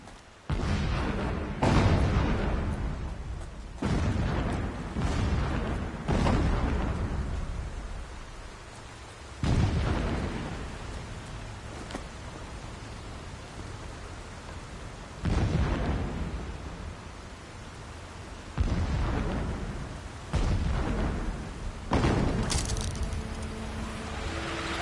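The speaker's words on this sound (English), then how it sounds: "Explosions in the distance." Deep explosions boom in the distance in the video game Horizon Zero Dawn, about a dozen heavy blasts spaced a few seconds apart, each rumbling out over a low background hum.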